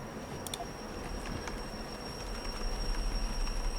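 Freight train braking in the Derail Valley railway simulator, a steady rumbling hiss of wheels and cars with faint squeals, growing slightly louder toward the end, no voices.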